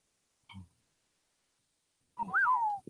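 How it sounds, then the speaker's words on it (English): A person whistles a short rising-then-falling note, fairly loud and close, after a brief faint click and a stretch of silence. "I was whistling stereo right there"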